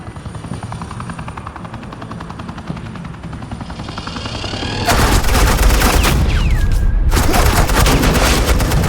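Suppressing gunfire in the Batman: The Enemy Within game, rapid automatic bursts erupting loud and dense over a helicopter-like whir, with a brief gap before firing resumes.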